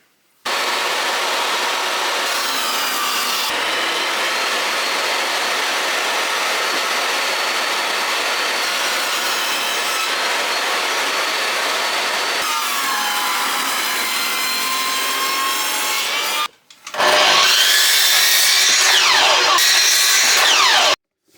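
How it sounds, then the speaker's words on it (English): A power saw rips reclaimed timber lengthwise for a beehive super, a loud continuous whine that runs nearly twenty seconds, dips briefly, then surges again before stopping abruptly. "rip it down twice, give me one straight edge to work off"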